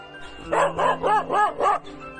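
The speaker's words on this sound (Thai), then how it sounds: "มักจะมีเจ้าหมาตัวหนึ่ง ชื่อกาแฟ จะคอยเห่าไล่อยู่ทุกๆ ครั้งที่เดินผ่า" A dog named Kafe barks five times in a quick, even series of close, loud yaps, each bark short and bright, alone over a faint background hum.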